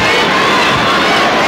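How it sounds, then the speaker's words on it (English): A large basketball finals crowd in an arena roars in a loud, dense wash of voices that may be a chant, with no single speaker standing out. "when was the last time you heard, the crowd chant MVP for Eric Menk?"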